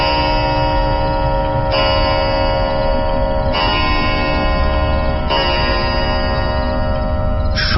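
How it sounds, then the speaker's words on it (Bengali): A dome clock bell strikes five times, each ringing stroke about two seconds apart and sustaining into the next over a constant loud tonal hum. "বাইরের গম্বুজের ঘড়িতে পরপর 5 বার ঘন্টা বাজল"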